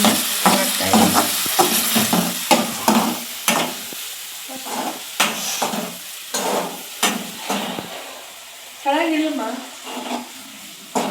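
Paneer gravy fries in a pan while a utensil scrapes and clatters in frequent rhythmic strokes over a sizzle. A voice speaks briefly in between.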